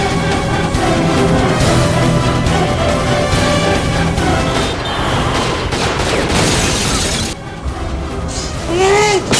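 Dense, chaotic bursts of gunfire and explosions fill the clip, loud and continuous, with a brief drop near the end before more noise returns.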